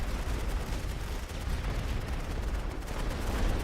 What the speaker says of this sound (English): The light artillery doesn't do much damage, but it stuns really well.